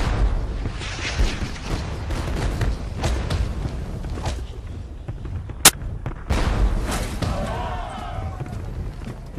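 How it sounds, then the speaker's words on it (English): British artillery cannon fire at Waterloo against the advancing French Old Guard, heard as dull repeated booms and one sharp crack over a continuous battlefield rumble, with voices mixed in. "As the Old Guard march toward the ridge, they get a taste of British artillery"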